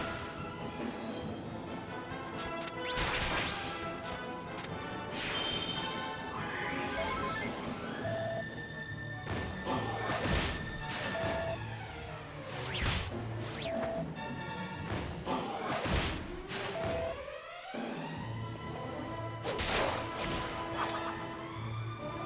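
In Dragon Quest VIII, the Kaboom explosion spell goes off in a battle as heavy crashing blasts and thuds. The booms sit over dense, layered game music and swelling effects.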